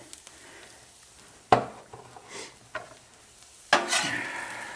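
Potatoes for corned beef hash are stirred and scraped on a hot flat griddle, with sharp metal spatula clanks and soft sizzling between them, close and fairly quiet apart from a few loud hits.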